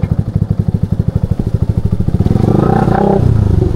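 A motorcycle engine chugs nearby with a steady, even thump of firing pulses, then its note rises and thickens into a louder rev as it pulls in.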